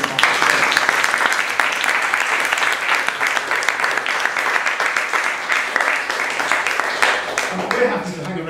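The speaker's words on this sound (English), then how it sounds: "a round of applause" A room full of people at an economics symposium in London gives a sustained round of applause, dense steady clapping that carries on for over eight seconds before beginning to thin.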